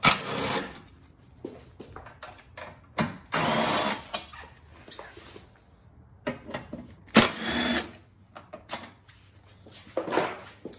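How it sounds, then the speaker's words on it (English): A 10mm socket ratchets out the three headlight bolts on a Fiat 500 Abarth, giving close, intermittent bursts of clicking and rattling with scrapes and knocks between them and no talking. "start with a 10mm socket to remove the 3 bolts that secure the headlight"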